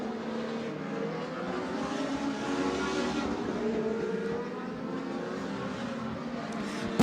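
Stock cars race at Twin State Speedway in Claremont, New Hampshire, engines roaring loudly past in a dense, steady pack with shifting tones as cars jostle for position near the end of a heat.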